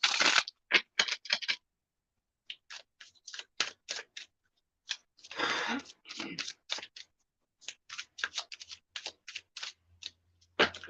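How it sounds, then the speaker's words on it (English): A Llewellyn tarot deck is shuffled by hand in a quiet room, giving a run of crisp, irregular card riffles and taps in short bursts, close and fairly soft. "All right, let's shuffle."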